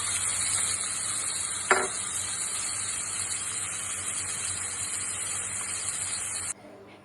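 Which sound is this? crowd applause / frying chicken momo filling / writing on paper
frying chicken momo filling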